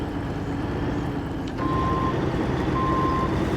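A Kenworth W990 truck backs up in a video game, its reversing alarm giving two short steady tones, roughly a second apart, over a constant low engine drone.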